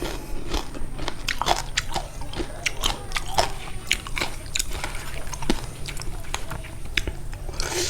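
Crispy pork is bitten and chewed close to the microphone, giving repeated loud crunches and crackles over a steady stream of wet mastication, continuing throughout without a break.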